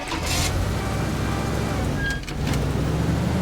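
A car in the destruction sandbox game Teardown rumbles steadily with a low engine drone close by, a brief higher whine and a faint tonal beep partway through, with no voices.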